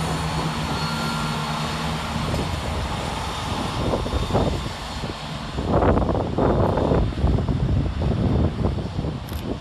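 A cross-country diesel unit pulls out of Nuneaton station on a Birmingham New Street to Leicester working, its engine rumble and wheel noise swelling in the second half over steady outdoor wind.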